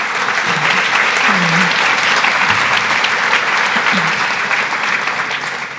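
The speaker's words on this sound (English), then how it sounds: "Round of applause for them." A conference audience breaks into steady, dense applause that holds loud for several seconds and then slowly eases, with a few voices calling out over the clapping.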